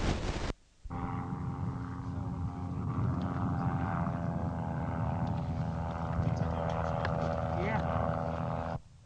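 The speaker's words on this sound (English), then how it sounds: "The first takeoff was made in a 15-knot crosswind with full flap, and you would note the very short takeoff run." A propeller airplane with full flap takes off into a 15-knot crosswind after a very short takeoff run, its engine drone steady and continuous with a sharp cut at the start, while someone narrates over it.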